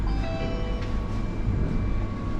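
A KLIA Transit express train between Kuala Lumpur and KLIA 2 runs with a steady low rumble and thin, sustained whining tones on top, heard from onboard at a constant level with no talk.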